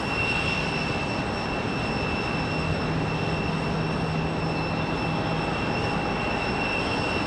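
JetBlue jet in NYPD livery at Raleigh-Durham airport, a loud, steady engine rumble with a high thin whine sustained throughout, close and uninterrupted.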